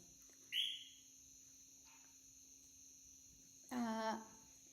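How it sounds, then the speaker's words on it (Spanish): Crickets and frogs in a forest keep up a faint, steady high-pitched trill, broken by two brief, louder chirping calls, one early and one late. "aquí me acompañan, oigan, los grillos, las ranas"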